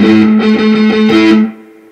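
Harmonics ring out from a distorted electric guitar in a short run of quick strums, with a sustained tone that fades after the last hit.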